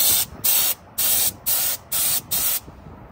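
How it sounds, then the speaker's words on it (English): Six short, loud bursts of a brand new paint spray gun hiss in an even rhythm during a test spray, each about a third of a second, separated by brief pauses. "I'm just going to do a little test spray to see how my flow is."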